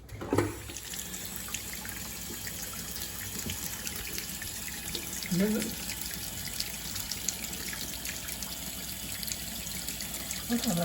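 Water runs steadily over steel in a garage to wash off vinegar-loosened mill scale, a continuous close splashing flow like a hose or tap with a few brief clunks of handling.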